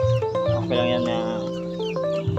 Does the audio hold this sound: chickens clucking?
yes